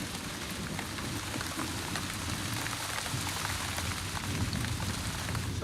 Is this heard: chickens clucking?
no